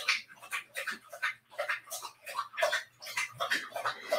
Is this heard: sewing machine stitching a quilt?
no